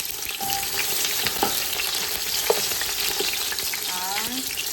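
Onion, garlic, ginger and tomato frying in oil for a chicken dish, a dense close sizzle with occasional stirring scrapes and knocks.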